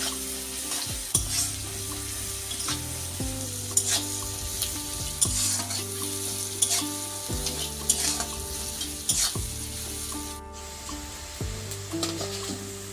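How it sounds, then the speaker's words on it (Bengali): Onions frying with salt in a pan for a chicken and potato curry, a steady close sizzle with repeated spatula scrapes and stirring strokes throughout, no talking. "পেঁয়াজটা এখানে অনেকটাই ভাজা ভাজা হয়ে এসেছে"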